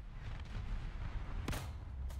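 Heavy tank cannon fire rumbles in a dense, low battle din in War Thunder, with one sharp, louder blast cracking out near the middle as a hit lands on an AA vehicle, and a fainter one after.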